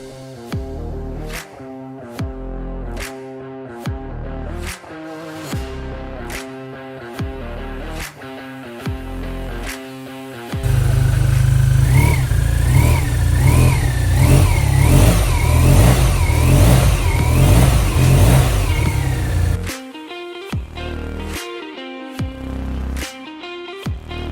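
A 2025 BMW R12 GS motorcycle engine idles with a pulsing beat between sharp throttle blips, then holds a loud sustained rev for several seconds before settling back to blipping idle, close and alone.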